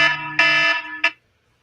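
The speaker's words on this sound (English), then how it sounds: "That was the timer." A timer alarm sounds as loud electronic tone bursts: two sustained beeps and then a short final one before it cuts to silence. No one speaks.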